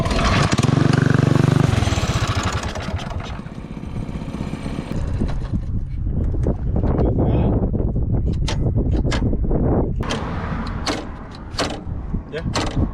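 A go-kart with a Predator 212cc Ghost engine roars loudly up close for the first couple of seconds, then drops to a rougher, uneven running rumble scattered with clatters and knocks.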